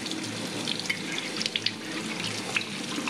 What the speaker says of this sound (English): you want to take your bands off and just wash your jars